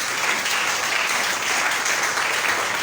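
A church congregation at a French-language Sunday service bursts into sustained, dense applause, many hands clapping together evenly and loudly throughout.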